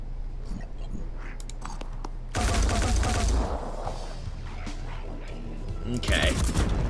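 Gunfire bursts in the tactical video game Phoenix Point, heard as sharp rattling volleys mixed with game effects and a dense crash of shots midway, with occasional talk layered on top.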